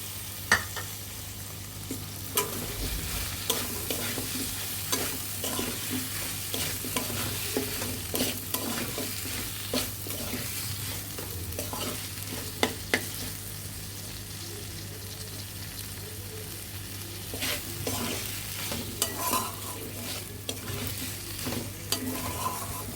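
Okra tossed into a pan for Bengali mustard okra, frying with a steady sizzle while a spoon stirs and scrapes in irregular clicks and knocks, close and fairly quiet with no talking.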